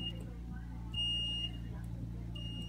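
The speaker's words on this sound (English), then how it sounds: "What's that beeping noise?" A faint high electronic beep sounds briefly, then another tone, over a low steady hum and murmuring background noise.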